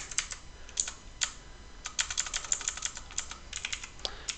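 Close computer keyboard typing while a code comment is entered, heard as irregular runs of crisp key clicks with short pauses between bursts and no talking.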